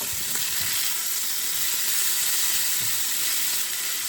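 Strings of meat frying for a long time in a pan until well done and crispy, a loud, dense, continuous sizzle and hiss heard close up.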